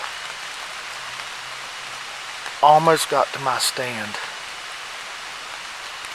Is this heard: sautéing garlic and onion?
no